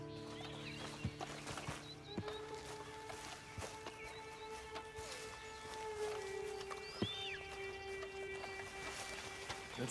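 Horse whinnies and hooves clip-clop in the Red Dead Online video game, with steady plodding steps, a brief neigh and other in-game ambient sounds, with no talk.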